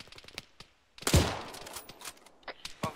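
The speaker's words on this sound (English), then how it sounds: "I'm getting shot at." Gunfire in the Arma 3 military shooter, a loud sharp burst followed by scattered fainter shots and clicks over a few seconds, with no speech.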